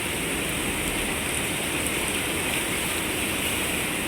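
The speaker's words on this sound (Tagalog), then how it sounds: "Pahupain mo na yung ulan." Heavy rain pours down in Hong Kong during a black rainstorm warning, a dense, unbroken roar of water on surfaces, steady and loud with no voices.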